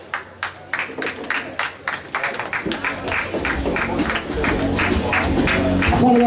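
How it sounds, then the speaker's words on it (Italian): Applause for two boxers at a boxing event in Correzzola starts as scattered claps and grows into steady crowd clapping in a hall, with an announcer talking over it. "Applauso meritato per i due pugili"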